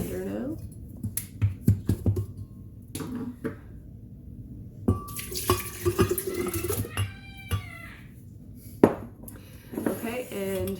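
Soaked, pitted medjool dates are dropped into a blender, giving soft sticky plops and clinks against the jar, with a person talking in between.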